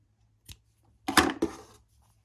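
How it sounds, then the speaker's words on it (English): Scissors cut crochet yarn up close: one small snip, a short pause, then a louder crunching cut that trails off quickly, with no one talking. "cut your yarn"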